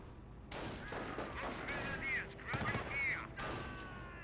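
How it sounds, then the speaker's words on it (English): Bursts of MG42 machine gun fire ring out in a Company of Heroes battle, several rattling volleys mixed with game effects and distant combat noise across a few seconds. "We're seeing fire from the MG42."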